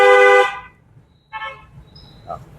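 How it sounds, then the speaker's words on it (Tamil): A car horn honks once loudly and briefly, followed by two shorter, fainter toots farther away. "ஹார்ன் அடிக்கும்."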